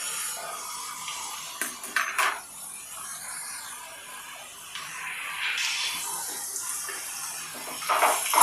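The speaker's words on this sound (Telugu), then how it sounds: "కొంచెం పసుపు వేసుకొని బాగా మిక్స్ చేయాలి" Brinjal fry with turmeric is stirred in a pan, giving wet scraping and swishing strokes in irregular bursts over a soft hiss, with no talk.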